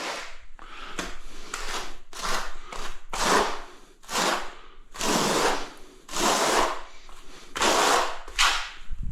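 Old glue being scraped away with a tool, repeated rough scraping strokes in bursts of about a second, separated by short pauses, close and fairly loud.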